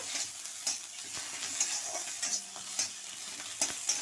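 Red amaranth greens fry in a pan with poppy seeds, grated coconut and coconut milk. The sizzle is quiet and steady, with occasional scrapes and clicks of a spatula stirring and no one talking.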